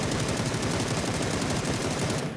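Rapid automatic gunfire from a P90 in a shooter video game, a loud continuous burst of tightly spaced shots filling the whole stretch with no talking.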